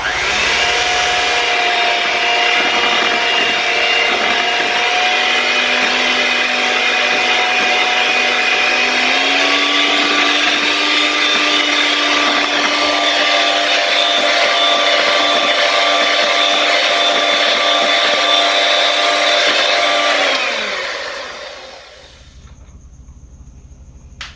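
An electric mixer beats coconut milk into cake batter with a loud, steady motor whine that shifts pitch partway through, then winds down and stops near the end, leaving quiet.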